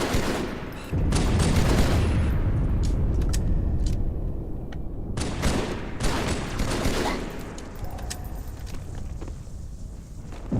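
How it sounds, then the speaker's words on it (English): Battle rifle fire in the video game Halo 2 comes in rapid bursts of gunshots, mixed with a dense, loud wash of battle noise and explosions. "God, I love this battle rifle so much."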